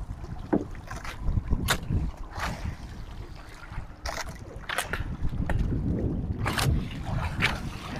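Small boat out on open sea after strong monsoon winds, a steady rumbling drone close by with wind gusts and water splashes hitting at irregular intervals, no talking.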